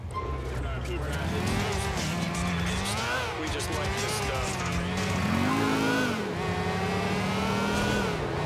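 Motorcycle engine revving in GTA 4, a steady loud drone of rising and falling revs with gear-change sweeps running the whole time, with traffic and game noise mixed in.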